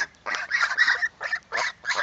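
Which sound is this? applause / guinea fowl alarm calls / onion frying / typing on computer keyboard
guinea fowl alarm calls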